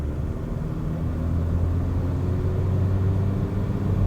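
A Ford Ranger Wildtrak 2.0T diesel pickup accelerates, heard from inside as a steady low engine rumble and drone that swells slightly and holds, with no talking.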